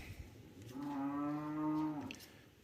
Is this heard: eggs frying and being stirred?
no